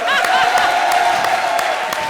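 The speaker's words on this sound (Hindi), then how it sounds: "हमारी सेलिब्रिटी के लिए जोरदार तालियां" A studio audience at a comedy show bursts into loud applause and cheering for a celebrity guest. The clapping and whoops stay close and full throughout, with voices mixed into the crowd noise.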